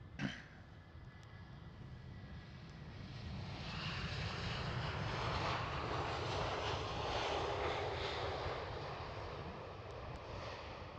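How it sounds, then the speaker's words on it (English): Jet engines of a JetBlue Airbus A321neo LR at Amsterdam Schiphol, a broad roar that builds from a distant rumble to a sustained loud swell and then eases slightly, heard alone outdoors. "That is the JetBlue Airbus A321 Neo long range."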